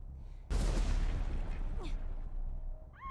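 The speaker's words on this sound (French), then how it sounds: "Pourquoi il y a des explosions?" Explosions and gunfire in a video game: a sudden loud blast followed by a rolling burst of rapid shots and rumble, then a rising tonal effect near the end.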